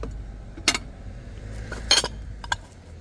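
Ceramic and glass plates clink sharply together as they are handled, a few distinct bright knocks spaced apart over a quiet background, with no talking.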